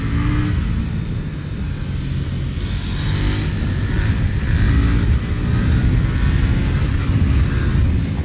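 A KTM Duke 890 R twin-cylinder motorcycle pulls hard under acceleration, a steady loud engine drone with wind roar throughout and no voices.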